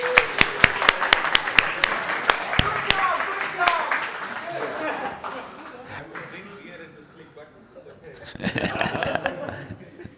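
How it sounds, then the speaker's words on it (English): A conference audience gives a short round of applause, sharp claps rippling over the first few seconds before fading, followed by talking and light laughter in the room. "can we have a round of applause for Anke?"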